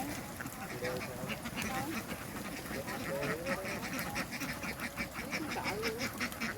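A crowd of ducks quacks steadily as they ride on a truck past green rice fields, a dense, continuous chorus of overlapping calls over engine and road noise.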